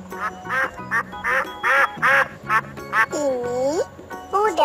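A duck quacks in a rapid series of nasal calls, loud and close, repeated in short bursts with a few drawn-out quacks near the end.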